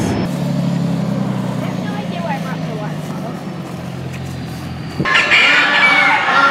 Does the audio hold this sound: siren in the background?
no